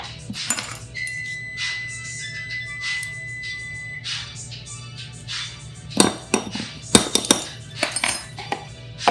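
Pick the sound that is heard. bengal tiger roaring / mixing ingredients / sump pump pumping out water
mixing ingredients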